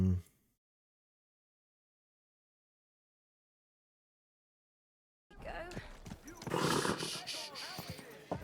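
After a brief sound and long silence, a horse whinnies and snorts with some clopping hooves in the video game Kingdom Come: Deliverance II, fairly close, with a voice in the mix.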